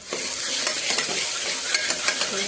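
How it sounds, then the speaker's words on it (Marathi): Finely chopped onion sizzles in hot oil, a close, continuous frying hiss with repeated stirring scrapes and taps throughout. "तेल टाकून बारीक चिरलेला कांदा टाकून"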